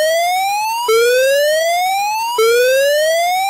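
Turkmenistan's emergency alert system alarm plays a loud rising electronic siren tone that sweeps upward, resets and sweeps again, repeating twice, alone and close.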